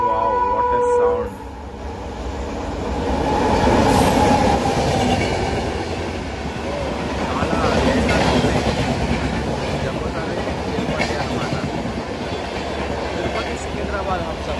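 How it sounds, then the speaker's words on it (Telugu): The Tirupati–Secunderabad Humsafar train passes close by, a loud sustained rumble of rolling wagons with rhythmic wheel clatter lasting throughout, as a person talks faintly beneath it. "తిరుపతి సికింద్రాబాద్ హంసఫర్."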